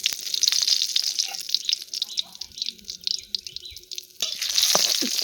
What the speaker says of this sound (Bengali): সরষের তেল দিয়ে তারপরে কিন্তু আমি প্রথমে শুকনো লঙ্কাগুলো ভালো করে ভেজে নেব